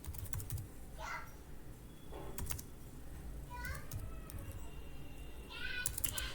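Quick, faint clicks of a computer keyboard come in short bursts as someone types a web search, over a low room hum.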